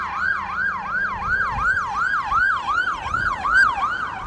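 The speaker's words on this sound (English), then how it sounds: "How the sound of the siren changed as it sped by?" An emergency vehicle siren wails in a steady, rapidly repeating rise-and-fall pattern while passing by, its pitch shifting as it goes, loud and clear over faint road rumble.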